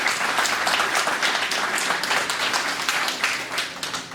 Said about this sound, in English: please give a special round of applause for the Edo community